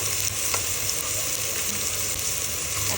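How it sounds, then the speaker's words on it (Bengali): Ginger-garlic paste, cumin paste, cinnamon and cardamom fry in a pan over already-fried onions, giving a steady, close, dense sizzle that lasts throughout with no voices. "এখন আমি আদা রসুন বাটা, জিরা বাটা আর কয়েকটা গরম মশলা দিয়েছি, দারচিনি, এলাচ।"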